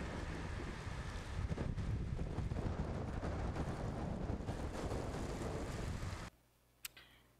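Strong wind in dry, smoky weather in central Brazil's Tocantins buffets the microphone with a loud, continuous low rumble for about six seconds, then cuts off to near quiet with one brief knock.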